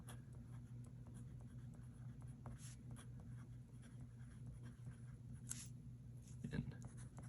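A Pilot Prera fountain pen scratches faintly across paper in a steady run of soft strokes over a low background hum, with a couple of brighter scratches near the end.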